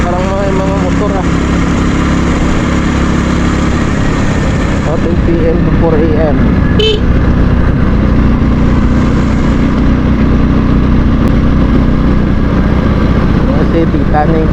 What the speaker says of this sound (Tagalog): Oh, maraming sasakyan, maraming motor.